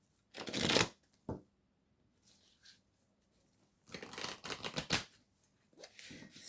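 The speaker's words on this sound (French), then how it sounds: "Je vais prendre une carte." Tarot cards are handled and drawn from a deck in short, crisp bursts of shuffling and sliding paper, close and fairly quiet, with pauses of near silence between the flurries.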